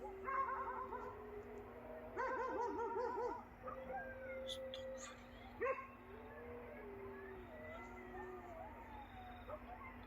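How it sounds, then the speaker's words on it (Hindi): Dogs bark and whine at night near a graveyard, with jackals calling among them: a chorus of distant yelps, howls and whimpers rising and falling over a steady low hum, with a voice talking in between. "ये देखें बीच में गिद्दड़, कुत्तों की आवाज़ें और बेशुमार कुत्ते।"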